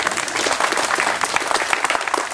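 An outdoor audience at the Peach Creek Rotary Trail opening gives a dense, steady round of clapping, brief and fairly close, with no speech over it.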